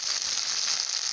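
Ground cumin and coriander powder fry in a pan for a cooked fish curry, giving a loud, even, continuous sizzle close up with no breaks.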